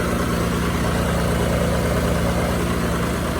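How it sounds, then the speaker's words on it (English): A rented portable generator runs outdoors in extreme cold around minus 28, giving a steady, loud engine drone with a constant low hum and rhythmic mechanical pulsing, close by and with no voices. "We'll have the generator running."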